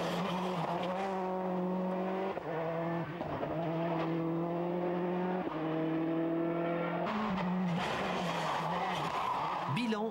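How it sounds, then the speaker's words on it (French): A Peugeot 206 WRC rally car accelerates on asphalt, its engine climbing repeatedly through rising revs with gear-change dips, loud and continuous, with a voice talking over it. "Et petit à petit, Bruno accélère."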